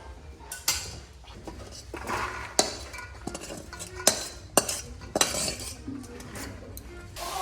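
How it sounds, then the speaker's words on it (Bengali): Potato and chickpea curry tempered with whole cumin and dried chillies gets stirred and tipped from a pot, producing a run of close metallic scrapes, clanks and knocks of spoon against the vessel. "আলু ছোলা সেদ্ধ হয়ে তারপরে এই যে গোটা জিরে শুকনো লঙ্কা ফোড়ন দিয়ে ভালো করে নেড়ে নিয়েছি, এবার ঢেলে নেব।"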